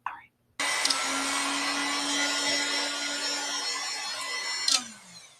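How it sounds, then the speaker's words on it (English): A heat gun drying paint gives a steady, loud, close blowing roar with a constant motor whine underneath. It starts abruptly after a brief quiet moment and keeps going for several seconds before starting to die down at the end. "Look at my heat gun. Pretty badass, right?"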